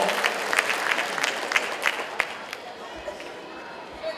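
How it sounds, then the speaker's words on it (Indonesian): A school audience at a student arts performance in Surabaya gives a burst of applause with scattered sharper claps and murmuring chatter, loud at first and tapering off after about two seconds. "Tepuk tangan yang meriah untuk SMA Negeri 6 Surabaya"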